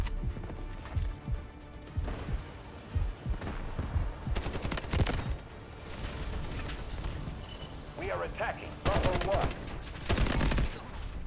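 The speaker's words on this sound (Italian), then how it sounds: "Mi stanno sparando però" Gunfire in the shooter Delta Force: Hawk Ops, bursts of shots popping through a busy battlefield mix with speech-like voices, building to heavier, louder volleys near the end.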